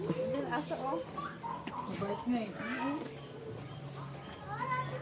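Several cat meows rise and fall close by at a farm resort in Bataan, overlapping with people chattering in the background.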